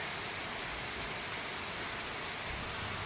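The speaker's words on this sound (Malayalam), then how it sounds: "ലൈറ്റായിട്ടുള്ള മഴയാണ്" Light rain falls in Tirur, Malappuram after a night of thunder, making a soft, even hiss that holds steady with no distinct drops or voices.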